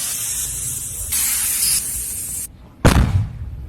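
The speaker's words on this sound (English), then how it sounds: "I have a yoga ball, and I also have an air compressor" Air compressor hissing steadily as it inflates a yoga ball, getting louder partway, then a short quiet gap and a sudden loud burst with a decaying low rumble.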